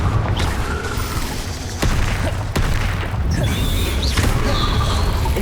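Explosive Confringo spell blasts in Hogwarts Legacy, loud booming bursts and crashing impacts over busy game noise, with sharp hits standing out amid the rumble.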